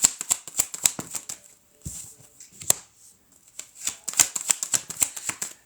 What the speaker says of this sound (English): I'm shuffling it again with more of a direction